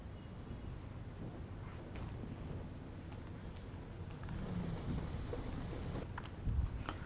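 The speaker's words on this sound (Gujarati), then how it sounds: "મુંબઈના થાણેના આ દ્રશ્યો છે, જ્યાં ધોધમાર વરસાદ મુશ્કેલી લઈને આવ્યો છે" Heavy monsoon rain pours down in Thane, Mumbai, as a continuous, fairly faint wash of hiss with a slight swell partway through and no voices.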